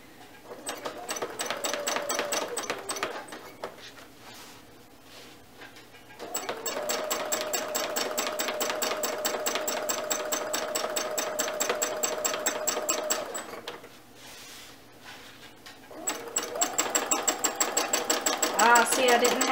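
Sewing machine running in long steady bursts of rapid, even stitching during free-motion quilting of a triangle twist pattern, pausing twice between runs, close and fairly loud.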